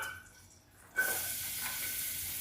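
Oil in a pan starts sizzling abruptly, a steady bright hiss that holds level after a brief quiet moment, readied for sautéing onion with dried fish.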